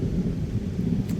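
Thunder from a nighttime thunderstorm at 3 a.m. rolls as a deep, loud rumble, with rain hissing steadily underneath.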